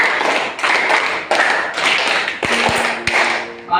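Workshop group clapping in rhythm, a count of five done twice, producing a steady series of sharp, overlapping clap bursts at an even pulse, close and loud, with a brief tonal ring near the end.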